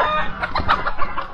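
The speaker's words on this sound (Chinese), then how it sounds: "这有一只公鸡，那公鸡特别少，大部分都是母鸡。" Free-range hens and a rooster on a hillside cluck in a loose, rhythmic series of loud, close calls with no voices over them.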